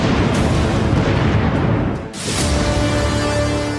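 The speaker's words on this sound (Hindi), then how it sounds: "कई धमाके इस इलाके में देखे गए।" Iranian missile strikes explode near Tel Aviv around Ramat Gan in heavy, rumbling booming blasts. One long, loud roar fades briefly, then a second powerful blast follows and rumbles on.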